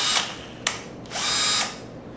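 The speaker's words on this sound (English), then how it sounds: "The drill has 2 speeds" A Bosch 12V drill-driver gives two short whirring bursts, the second held a little longer, with a click between them. The tool is close and fairly quiet.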